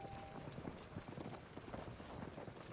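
Horse hooves clip-clopping at a walk in the video game Zelda: Tears of the Kingdom, an even rhythmic clatter over a continuous background game ambience, faint and without talk.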